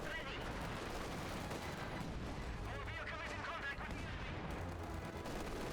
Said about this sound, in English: More Sturmgrenadiers advancing with the MP40s and MT42s. Laying down a lot of fire on these AT guns.